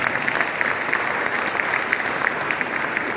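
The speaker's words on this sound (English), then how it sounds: "Let's give them a round of applause." Applause from the audience at the launch of a cathedral music trust, after singers perform: a full, steady burst of many people clapping together, fairly loud and continuous for a few seconds without speech.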